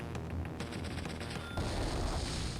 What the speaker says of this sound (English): It doesn't really matter if this black cannon shoots on your transport copter either